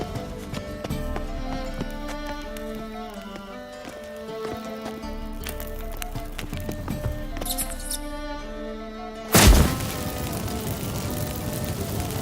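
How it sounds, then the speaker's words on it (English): Magic fireworks go off in The Witcher 3 video game, a sudden loud burst erupting near the end after a stretch of tonal ambient music and scattered small effects. "Get ready for some magic fireworks."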